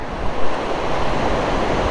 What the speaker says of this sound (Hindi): वाटरफॉल तो सही तूफानी है।